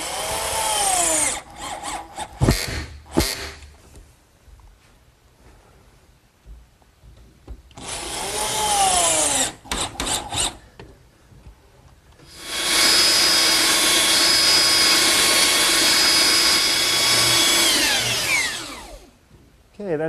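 A power tool, likely a router, rounds the corners of a wooden harvest table top in several loud bursts: short screaming passes between pauses, then a long sustained cut of about five seconds that spools down at the end.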